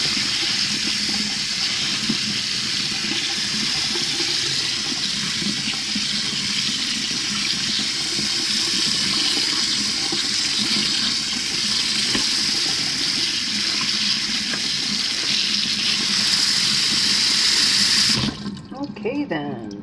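Carrots and beans rinsed under a running tap, a loud continuous rush of water splashing into a sink, steady throughout and stopping abruptly near the end.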